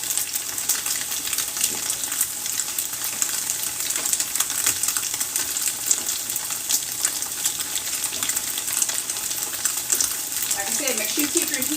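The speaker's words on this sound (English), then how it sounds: "I'm going to fry up the spinach a little bit." Spinach fries in a pan over medium heat, giving a steady, close, even sizzle throughout with no clear speech over it.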